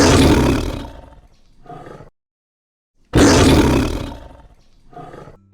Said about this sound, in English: It's a lion. So powerful.